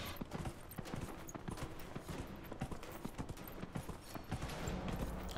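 Horse hooves clip-clop steadily while riding in Dragon Age: Inquisition, a quick continuous rhythm of hoofbeats up close over a busy game soundscape.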